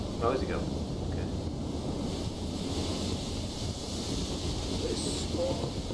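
Stormy wind and crashing sea roaring in the Return of the Obra Dinn video game, a steady dense broadband rush filling the whole stretch, with faint game effects and brief sounds above it.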